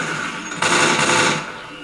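A burst of loud, harsh gunfire in Left 4 Dead 2, aimed at a zombie, dense and noisy, swelling suddenly then tapering off.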